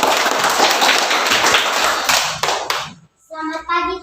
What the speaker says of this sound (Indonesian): Kita beri tepuk tangan dulu untuk kelompok 2.